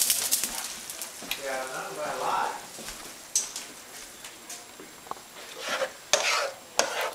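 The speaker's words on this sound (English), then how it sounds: "Now that the beef stock is heated, we are ready to put it into the pan." Heated beef stock for a shepherd's pie is poured into a hot pan, bringing uneven bursts of hissing sizzle and splashing, with clinks and stirring scrapes between quieter stretches.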